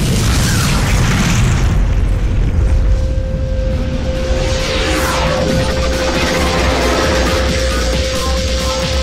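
Demon tank attack in Devil May Cry 2 brings loud, continuous booming explosions and rumbling mechanical noise, heavy and close, with a steady tone running under the blasts.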